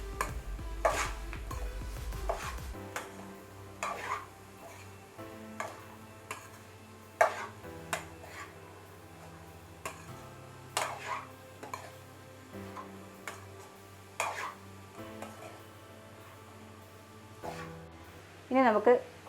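Spoon scraping and tapping in a pan while cabbage thoran is stirred, Kerala sadya style, with irregular clinks and knocks spaced across a quiet background and a low hum in the first few seconds.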